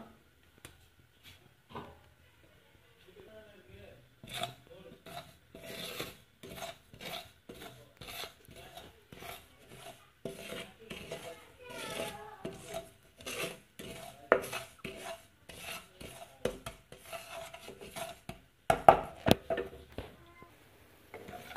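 Black cumin seeds dry-roasting in a pan while being stirred, a series of close scraping and rattling strokes of spoon on metal that grow busier and louder, with no voices over it.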